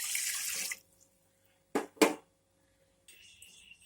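Water is poured into a cooking pot for black gram rice in a quiet kitchen: a short hiss at the start, then two brief splashing bursts, followed by near silence.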